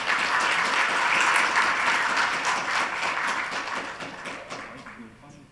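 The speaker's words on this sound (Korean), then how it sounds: "박수로 맞이해 주시길 바랍니다." Audience applause at a mid-sized company CEO luncheon lecture welcomes the opening speaker, a dense, steady wash of many hands clapping that gradually thins toward the end.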